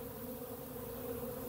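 A steady, close insect buzz hums throughout, a continuous droning drone of honeybees at feeders with no pauses.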